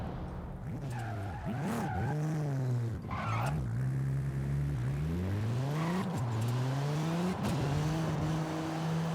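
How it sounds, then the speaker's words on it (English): Toyota Supra Formula Drift car with a 2JZ engine in the racing game Forza Horizon 5, a loud continuous engine note rising and falling through repeated gear changes while sliding downhill with steady tire noise. "I like the sound of the car changing gears."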